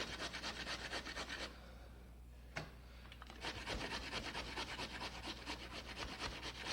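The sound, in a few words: grating raw potatoes on coarse side of grater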